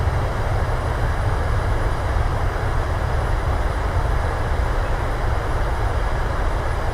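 Boeing 737-800 thrust reversers roaring on landing in Microsoft Flight Simulator, a loud, steady broadband engine rumble that holds constant throughout with no voices.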